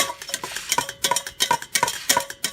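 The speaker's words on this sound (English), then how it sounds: "So while you're in here stirring away" A kitchen spoon scrapes and clinks in a pot with a quick, regular rhythm of about three strokes per second, close and fairly soft, with no talking.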